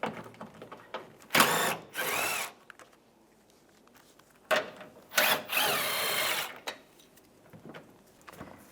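Power tool with a 10mm socket backing out screws on a 2007-2013 Chevrolet Silverado 1500, loud close whirring in two pairs of short bursts separated by a quiet pause.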